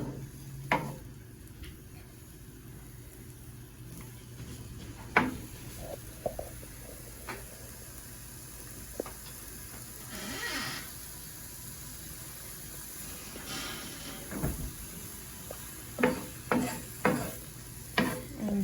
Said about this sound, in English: we're just gonna put the heat up a little bit, and these will hopefully start sizzling